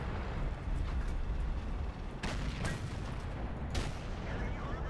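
Tank cannon fire and shell impacts from a T-54 tank video game thud and boom over a dense, constant rumble, with a few sharper hits standing out from the noisy battle mix.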